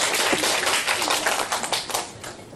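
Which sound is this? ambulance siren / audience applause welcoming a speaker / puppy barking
audience applause welcoming a speaker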